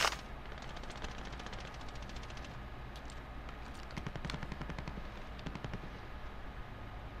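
Automatic gunfire from a weapon being tested for recoil in the video game Warzone rattles in rapid sustained bursts, loud and close, filling most of the stretch.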